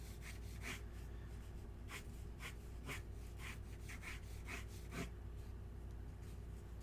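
A pencil sketching the front view of a car on paper gives quiet, close scratchy strokes in short repeated bursts, some longer drawn lines among them.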